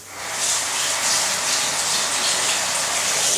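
Water gushes steadily from a tap into a bathtub, a continuous close hiss and rush that holds at even loudness throughout.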